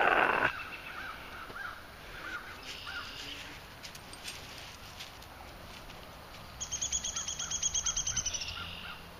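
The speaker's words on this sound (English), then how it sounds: "You can hear all the birds." Crows caw outdoors among other birds calling, with a quick burst of repeated chirping calls near the end over faint outdoor ambience.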